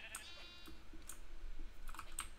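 Tiny sheep in the Minecraft video game bleating in short, faint high calls, several spaced across the moment, with soft clicking alongside.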